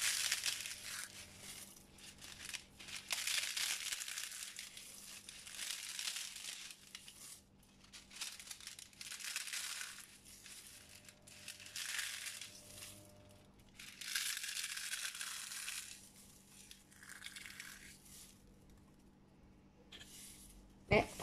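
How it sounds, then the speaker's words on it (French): Sheets of filo pastry for an orange cake broken into small pieces by hand, giving soft crinkling and crunching in irregular bursts with brief pauses, fairly quiet and close. "on prend la pâte filo et on la casse en petits morceaux"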